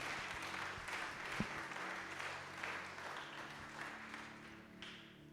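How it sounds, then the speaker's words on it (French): A church congregation applauds during a bilingual service, steady clapping filling the room as a continuous wash of hands at moderate level. "Give a hand to Jesus."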